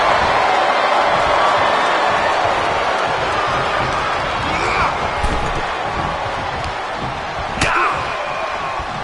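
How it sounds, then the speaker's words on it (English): A packed arena crowd in a PS4 wrestling game roars in a loud, unbroken wall of noise, with a few sharp slam-like impacts cutting through the din. "The sound of this crowd is deafening, and he's asking for more."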